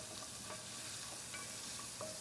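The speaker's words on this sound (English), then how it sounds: "I've got my chopped bacon pieces over here that I am just giving a little saute" Chopped bacon pieces sautéing in a pan, a soft but steady sizzle with a few light stirring scrapes and clicks, and no one speaking.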